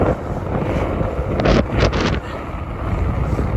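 Strong wind buffets a microphone on a Midtown Manhattan street in New York City, a loud continuous rumbling roar with a few sharper gust bursts in the middle.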